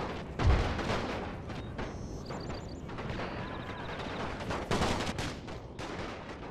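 Musket volleys in Napoleon Total War crackle in scattered, overlapping shots with a heavy boom near the start, set amid steady distant battle noise.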